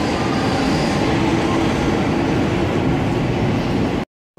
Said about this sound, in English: Last train now, on the way home.